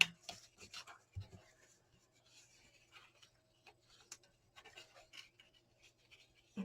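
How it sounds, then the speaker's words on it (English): Paper folds of a card gift booklet being burnished into sharp creases, heard as faint, quiet rubbing and scratching strokes in irregular bursts, close by with no talk. "fold on the fold line and burnish all your folds"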